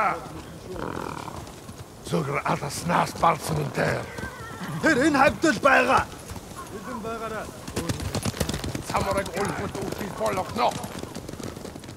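Horses neigh and whinny loudly several times in the video game Ghost of Tsushima over a busy background with hoofbeats and other game noise, while a voice speaks in places.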